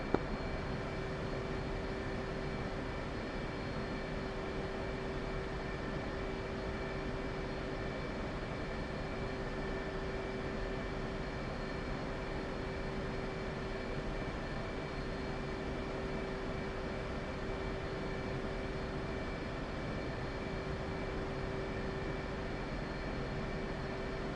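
A military jet taxis in a flight simulator as a steady, unbroken engine drone with a constant whine, loud and even for the whole stretch, with no voices.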